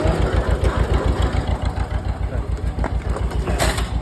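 An Oliver tractor engine idles in a shed on a sheep farm, a steady low pulsing chug throughout, close and fairly loud, with a brief clank near the end.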